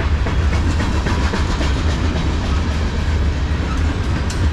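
A CSX manifest freight train, M404, led by locomotive 5456, rolls past close by with a loud, steady rumble and continuous clickety-clack of wheels over rail joints.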